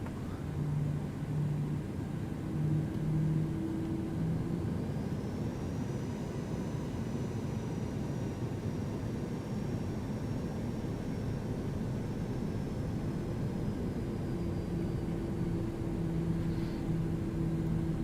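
A Boeing 737-800 in a flight simulator game taxis at Las Vegas, its engines giving a steady droning roar with a faint high whine sweeping slowly across it, continuous and moderately loud.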